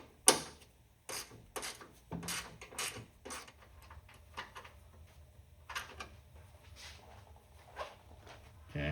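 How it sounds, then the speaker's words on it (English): An 8mm bolt comes out of the fender of a 2003-2004 SVT Cobra Terminator during a ram air intake install, heard as faint ratcheting clicks and scattered metallic taps in uneven bursts, with quiet surroundings. "remove that bolt out of the fender"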